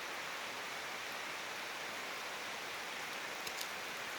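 Rain falls steadily outdoors in Ulus, Bartın, a constant dense hiss of drops with no pauses and no voices.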